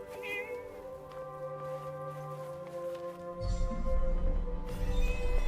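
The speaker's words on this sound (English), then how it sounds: "Aha. Cat." A cat meows repeatedly in the Forspoken video game, close and clear over steady game music, with a low rumbling layer joining partway through.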